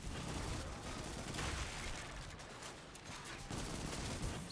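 Sustained automatic gunfire from a weapon in the video game Destiny 2, a dense continuous stream of rapid shots rising and falling in intensity over several seconds.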